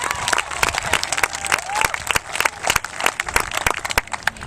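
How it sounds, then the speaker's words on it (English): A crowd at a construction groundbreaking ceremony claps for the mayor of Bellflower, scattered sharp hand claps of varying loudness in an outdoor setting, fairly close, with a little murmuring mixed in. "Let's give Eston a nice round of applause"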